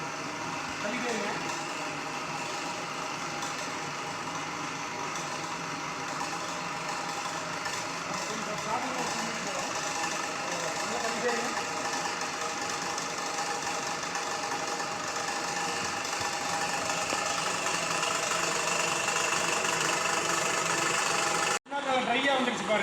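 A coconut oil extraction machine runs with a steady, loud mechanical drone and vibration, unbroken for over twenty seconds except for a brief dropout near the end. Voices may be talking over it.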